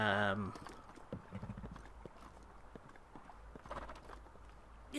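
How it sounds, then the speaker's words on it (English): Rapid clip-clop of horse hooves at a gallop in The Legend of Zelda: Breath of the Wild, fading as the horse runs away, with brief game sounds over a low background rumble. "Did my horse just run away?"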